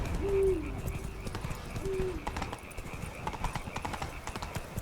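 Horse galloping in The Witcher 3, a fast rhythmic clip-clop of hooves running through the whole stretch, with a couple of brief tonal calls near the start, moderately close and faint overall.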